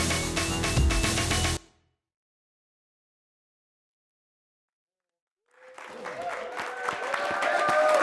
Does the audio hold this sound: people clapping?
yes